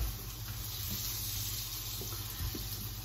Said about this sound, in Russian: Наливаю в кастрюльку немножко воды.